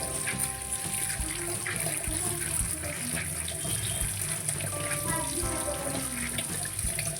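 About three hundred grams of chana dal being washed in clean water, with steady running water and splashing close up that continues without a break.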